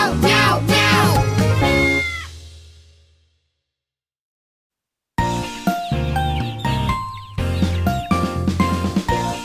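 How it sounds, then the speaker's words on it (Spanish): Repeated cat meows in a children's animal-sounds song, set over bright jingling music. They sound close and loud, fade into a few seconds of silence, then return in quick succession. "Miau, miau, miau."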